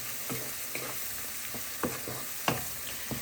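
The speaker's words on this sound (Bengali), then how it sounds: "এখন আমি সব মশলা দিয়ে ভালো করে আলুটাকে কষিয়ে নিচ্ছি।" Potatoes with spices sizzling in a frying pan, a steady hiss broken by regular scraping stir strokes, close and alone without talk.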